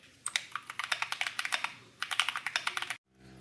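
Rapid typing on an Akko ACR64 mechanical keyboard fitted with Akko Jelly Purple switches, a close, crisp run of clacky keystrokes in two quick bursts before stopping.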